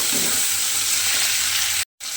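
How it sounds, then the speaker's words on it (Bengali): Steady, loud sizzling of chopped tomato frying and being stirred in a pan, continuous and close, with a brief sharp cutout near the end. "টমেটোটাও দিয়ে একটু ভালোভাবে নেড়ে চেড়ে একটু ভাজা ভাজা মতো করে নেব"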